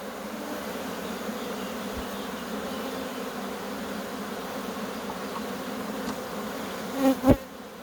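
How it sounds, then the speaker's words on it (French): Honey bees buzz steadily around an open hive as frames are set back in place, a continuous dense hum throughout with a couple of brief louder knocks near the end. "On remet gentiment les cadres sans écraser les abeilles."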